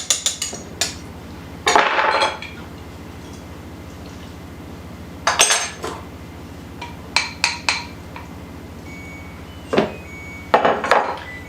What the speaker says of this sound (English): we're going to take a wooden spoon and we're just going to mix this all together